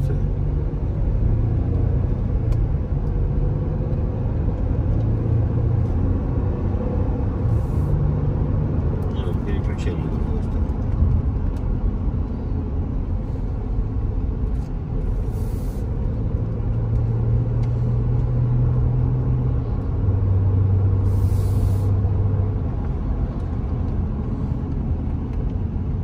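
A 2008 Mercedes-Benz R350 4matic with about 200 km on it driving along, heard from inside as a steady low engine and road rumble under continuous conversation between occupants.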